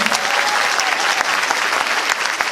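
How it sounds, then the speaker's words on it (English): Audience applause at a high school fall chorus concert, a steady dense wash of many hands clapping at once, fairly close and sustained throughout without letting up. "Everybody's going to give you a clap."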